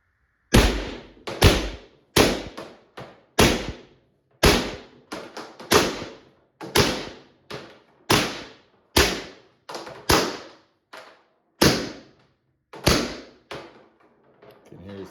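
A Valken M17 paintball marker on autofire, fired in a series of loud sharp pops with gaps between shots, each crack ringing briefly; the gas comes from a small 9 cubic inch bottle.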